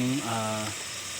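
Tomatoes for a mung bean stew sauté in a pan with a soft, steady sizzle that runs for about a second under a brief voice.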